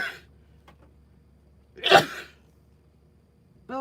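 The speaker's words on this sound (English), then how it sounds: "Oh, I'm going to sneeze." A single sharp sneeze bursts out once, fairly loud and close, in an otherwise quiet indoor setting, with a faint voice starting just after.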